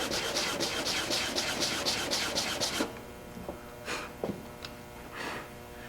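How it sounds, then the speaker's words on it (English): A wooden box being sanded with fast, loud, rhythmic back-and-forth rasping strokes for about three seconds, followed by softer scattered scrapes and handling noises. "I can go through, sand it up, flip it around, do the other side."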